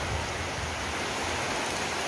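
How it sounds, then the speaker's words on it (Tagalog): Heavy rain pours down steadily, growing stronger, in a dense, hissing wash with a low rumble beneath, close and unbroken, in front of a shop. "Ay, mga kaibigan, palakas ng palakas yung ulan."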